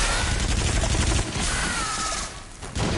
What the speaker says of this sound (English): Oh, we got the machine gun.